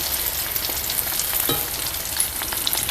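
Pieces of rahu fish fry in hot oil, making a continuous bright hiss with faint crackles and a soft clink near the middle, steady and close, with no voices over it.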